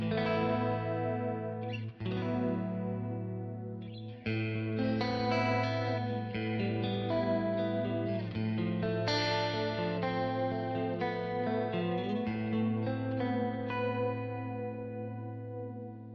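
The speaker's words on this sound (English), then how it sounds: "And the chorus sound." Electric guitar through a TC Electronic SCF chorus effect, shimmering and wavering, sustained chords ringing over a steady low note, played alone.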